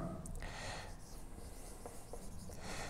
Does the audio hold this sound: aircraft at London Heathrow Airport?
no